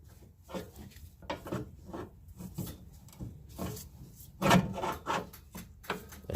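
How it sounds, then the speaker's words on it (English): Pry bar levering up the lower control arm of a 2006 Ford Escape during front sway bar link replacement: a run of close, irregular metallic scrapes and creaking grinds, with a louder burst partway through. "And I'll just pry it up a little bit."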